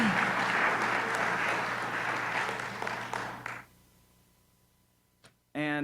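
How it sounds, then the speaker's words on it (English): A church congregation gives a sustained round of applause for guest musicians, dense clapping that fades out after about three and a half seconds, leaving near silence before a voice begins to speak at the end. "I want to invite us to give another round of applause for our guest musicians."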